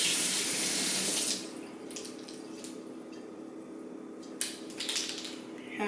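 A kitchen tap runs while something is rinsed off during cookie baking, a loud steady hiss of water that drops to a softer trickle, with brief splashes and clatter later on.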